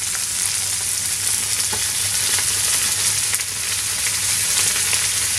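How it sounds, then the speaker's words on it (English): Venison strips with pepper and courgette stir-fried over high heat in a hot pan, a loud continuous close sizzle with faint scraping stirs throughout, no voices. "On a hot heat, quick stir fry"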